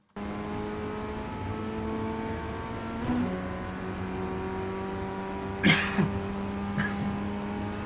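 A simulated Ray FF1600 Formula Ford race car from iRacing laps Laguna Seca, its engine holding a steady, droning whine with slight pitch shifts and a couple of brief clunks, heard alone with no talk.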